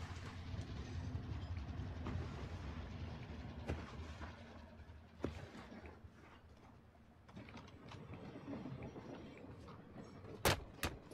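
A moving train in Call of Duty Warzone clanks and rattles with mechanical, ratchet-like knocks over a steady rumble, with scattered sharp metallic hits near the end.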